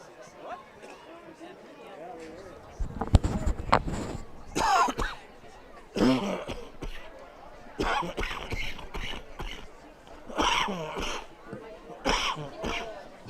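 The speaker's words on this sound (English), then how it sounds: "Got that little cough out of the way." A football broadcast commentator coughs and clears his throat several times in short bursts, close to the microphone, with crowd noise and talk around it at a high school game.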